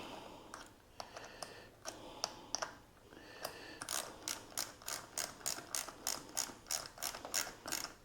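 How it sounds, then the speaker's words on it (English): A ratchet tightens the small tail light bolts on a Polarna X-01 bike, giving sparse clicks at first and then a fast, steady run of sharp, close ratchet clicks with no talking. "Let's tighten these little tail light bolts up."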